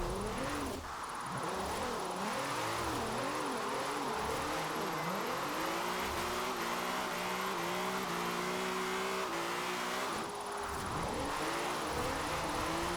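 A car engine in Forza Horizon 4 labours up a hill, droning steadily with wavering pitch and shifting revs throughout, close and continuous.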